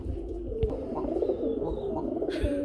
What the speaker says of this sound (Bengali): বড় ভাই ডাকের কবুতর এদের ধরে রাখা যায় না ডাকবেই